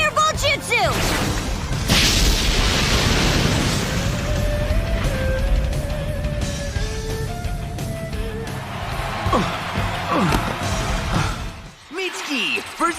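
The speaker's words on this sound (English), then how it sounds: "Fire style! Fireball Jutsu!" Fire Style Fireball Jutsu attack in the Boruto anime, a loud sustained roaring blast with whooshing and crashing impacts, shouted voices and dramatic music mixed in.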